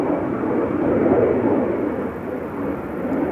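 A jet airliner departs from Amsterdam Schiphol Airport, heard from beside the Polderbaan runway: a steady, broad engine roar, loud and sustained throughout without pause.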